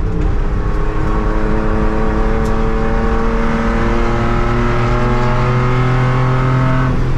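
A 1100hp ProCharged C7 Corvette on track, its engine revving loud and continuous near the top of a gear, with rising harmonic tones held steady throughout and no talking.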